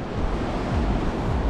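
Sea waves at Mandarmani beach roll in with a loud, continuous wash and rumble, mixed with gusty wind buffeting the microphone, no voices over it.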